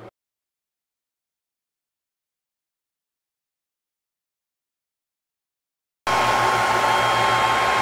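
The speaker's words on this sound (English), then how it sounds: "I'm going to cut them on the laser because that is like way faster." A laser cutter slicing 1/4 inch plywood: after a long stretch of silence, a steady, loud whooshing of air and fan noise starts up and runs for the last two seconds.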